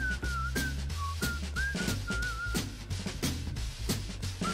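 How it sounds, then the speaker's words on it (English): A Fortnite whistle emote plays as a bright, lilting whistled melody over a steady, punchy electronic beat with deep bass, loud and continuous throughout. "get ready for the whistle"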